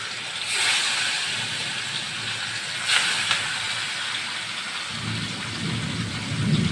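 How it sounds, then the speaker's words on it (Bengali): Pieces of rohu fish frying in hot soybean oil in a home kitchen, a loud, steady close-up crackling hiss that swells with sharp sputters, heard alone. "তেলটা গরম হয়ে গেছে, তাই একে একে আমি সবগুলো মাছ এখানে আমি দিয়ে দিচ্ছি"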